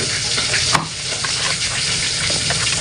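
Oil sizzles and crackles steadily as milkfish fries in a pan, a dense close-up hiss with occasional sharper pops.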